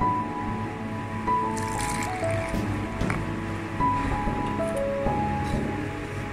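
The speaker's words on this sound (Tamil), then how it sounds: "நல்லா மிக்ஸ் பண்ணி மாவை நல்லா பிசைங்க." Hands mix and knead soft pizza dough in a bowl after yeast is added, giving close, wet squishing and slapping sounds, continuous and moderately loud with a faint background tone.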